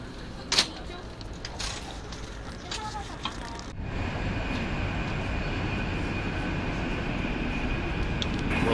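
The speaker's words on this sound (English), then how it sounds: "We are now departing Taipei, bound for Taichung in this bullet train." Taiwan high-speed bullet train pulling out of Taipei toward Taichung, a steady broadband rumble and hiss that swells and holds after a few early clicks and thumps, with faint voices underneath.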